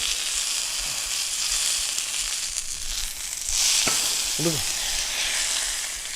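Steady, bright sizzling of chicken frying in hot oil, close up, with a couple of brief clinks and scrapes partway through.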